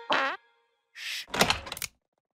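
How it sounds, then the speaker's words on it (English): A cartoon character lets out a squeaky fart: a wavering, pitch-bending tonal squeal lasting about a third of a second, followed after a pause by a hissy burst and a run of noisy thumps and rattles. "Bad timing on that squeaky fart."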